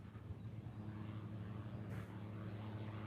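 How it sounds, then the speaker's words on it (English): A propeller airplane flies near a runway at an airfield in Hawaii during a fighter exercise, a steady engine drone with low tonal hum holding at even loudness throughout, fairly close and with no talk. "This plane here was headed in towards 4 right and then made a turn."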